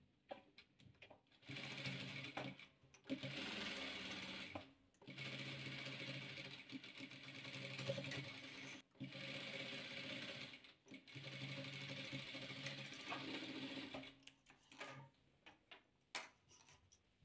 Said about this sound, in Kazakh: Енді осыларды тігеміз.